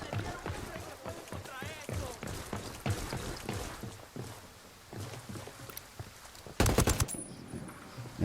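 Gunfire from Ghost Recon Wildlands: repeated sharp bursts cut through continuous talking voices, with a louder cluster of shots near the end.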